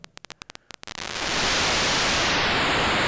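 An analog Dreadbox Dystopia synth module's noise generator crackles in a few short, sputtering bursts, then swells into a loud, steady hiss of static that sweeps faintly at the top.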